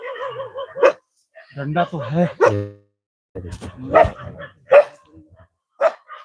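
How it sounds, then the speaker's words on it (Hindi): Dogs barking at night outdoors, a few sharp separate barks spaced between bursts of nearby talking voices. "कुत्ते भी भौंक रहे हैं"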